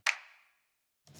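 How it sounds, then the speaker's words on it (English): One crisp snap sample, dry and bright with a quick decaying tail, sounds alone in a hip-hop mix before the track's music briefly returns. "Oh, it's more of a snap."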